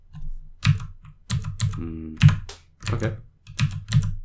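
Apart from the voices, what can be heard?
typing on a computer keyboard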